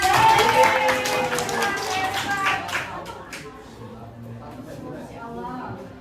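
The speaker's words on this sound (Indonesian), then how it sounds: "Oke, tepuk tangan." A classroom of high school students at SMA Sriguna Palembang breaks into loud, dense clapping that rings strongly for a few seconds, then thins and fades as scattered voices come through.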